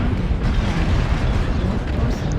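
A launcher blowing up in the MechWarrior Online video game gives a dense, rumbling explosion roar that stays loud and continuous for a couple of seconds.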